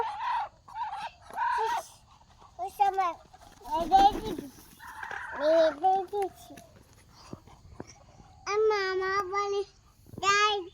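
Chinese ducks (Muscovy) at a village home let out a string of repeated, tonal calls, close by and moderately loud, with a voice also heard among them.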